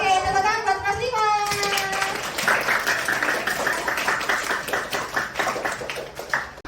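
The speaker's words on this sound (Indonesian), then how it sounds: "Oke, tepuk tangan buat Mas Lima." Classroom of children clapping for a classmate named Mas Lima, a sustained burst of hand claps in a rhythmic patter following a brief sung or called-out phrase, fairly close and loud.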